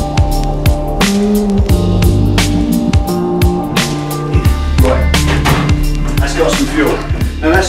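A car drives along on a trip for fuel. Its engine drone rises and falls in pitch through gear changes, loud and continuous from inside the vehicle.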